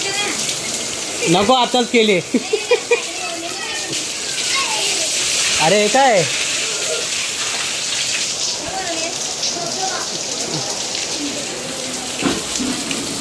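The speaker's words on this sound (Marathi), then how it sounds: "पाऊस जोरात आलाय." Heavy rain pours down in a continuous loud hiss, with voices talking and calling out over the downpour and short sharp knocks near the start.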